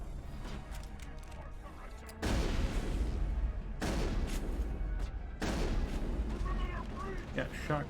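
Heavy game gunfire from shotguns in the Mass Effect video game, loud booming blasts in bursts that come in waves over a constant low rumble, with a voice talking at times.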